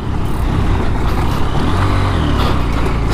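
A Honda CB200X motorcycle on dual-purpose tyres climbs an off-road forest track, its engine a loud, close, continuous roar with slight revving surges.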